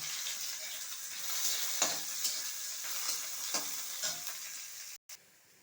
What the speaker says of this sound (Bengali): এখন আমি পেঁয়াজটাও ভেজে নেব